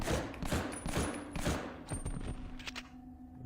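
Bursts of gunfire crackle in the PS1 game Medal of Honor Underground as enemies are shot: rapid repeated shots in irregular volleys, fairly close, with a steady low hum underneath and a quieter tail.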